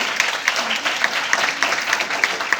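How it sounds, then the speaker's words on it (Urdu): Loud, steady applause from a church congregation during a Resurrection Day service, a full even wash of many hands clapping with a few sharper individual claps standing out near the listener. "زوردار تالیاں اپنے خدا کے لیے"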